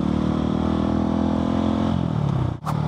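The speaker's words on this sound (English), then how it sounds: "We are going out of town full throttle." A Husqvarna 701 motorcycle with an Arrow exhaust and quickshifter roars at full throttle, a loud, steady close engine drone that dips briefly near the end like a quick gear change.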